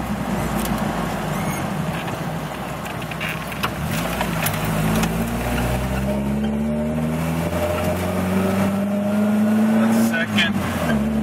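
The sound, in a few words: Jeep Wrangler 2.5 l engine running, shifting 5-speed gears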